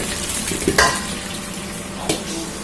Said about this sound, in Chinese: 下入腌好的牛肉，用勺子轻轻的划散